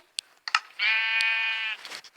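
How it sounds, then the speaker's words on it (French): A single Minecraft sheep lets out a clear, drawn-out bleat lasting about a second, framed by sharp keyboard clicks before and after. "je vais juste essayer de tuer ces petits moutons là"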